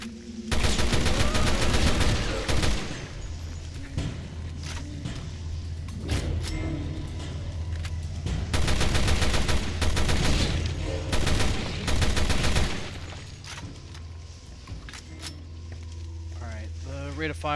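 Rapid gunfire from a high fire-rate weapon in Resident Evil Revelations 2 crackles in dense, loud bursts, stopping and starting several times over a steady low game hum.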